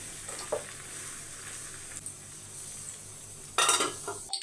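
A spoon stirs a chili powder mixture in a cooking pan. Soft scraping and faint sizzling run throughout, with a louder burst of scraping and clatter near the end.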